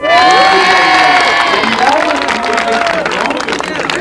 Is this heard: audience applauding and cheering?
yes